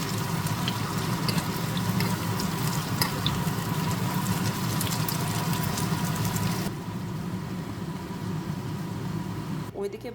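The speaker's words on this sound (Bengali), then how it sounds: "এগুলোকে এখন মিডিয়াম আঁচে আস্তে আস্তে করে ভাজতে হবে।" Leaves being shallow-fried slowly in a pan over medium heat for a bottle gourd leaf recipe, giving a steady, even sizzle throughout that drops slightly quieter toward the end.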